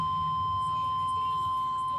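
A Morse code tone sounds as one steady, clean high beep that holds without a break, fairly clear above a faint background hum.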